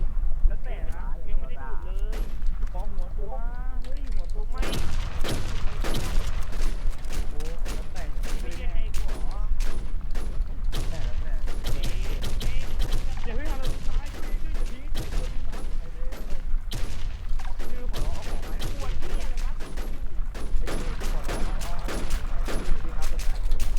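Dense, continuous video game gunfire with rapid bursts and explosive crackle, loud and relentless throughout, with someone talking excitedly over the action.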